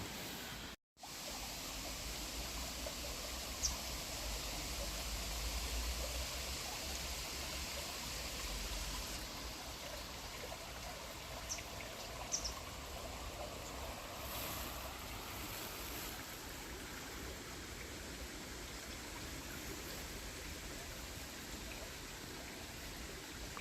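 Steady rushing water flows without a break in Ireland, a soft broadband wash with a few faint clicks; no voices.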